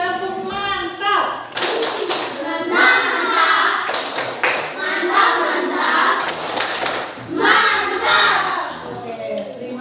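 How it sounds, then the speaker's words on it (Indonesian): An audience at a school coaching session performs the tepuk mantap, a rhythmic group clap in loud patterned bursts, mixed with voices talking and calling out. "Silakan berikan tepuk mantap."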